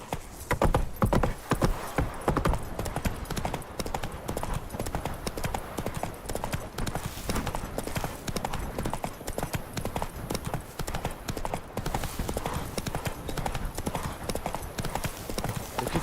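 Hooves of a horse in The Witcher 3 clip-clop in a steady, dense rhythm for the whole stretch, loud and close, with a faint whinny possible near the start.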